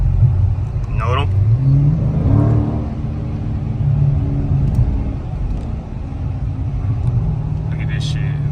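A Dodge Challenger Scat Pack at high speed gives a loud, steady low engine roar and road rumble from inside the cabin, with occasional faint higher tones over the drone.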